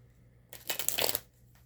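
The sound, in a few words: shuffling a deck of oracle cards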